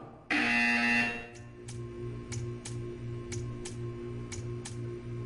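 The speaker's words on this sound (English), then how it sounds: "You will hear a buzzer." A loud electronic buzzer in the video game Portal 2 blares for about a second, then a steady low hum continues with a series of short, evenly spaced clicks.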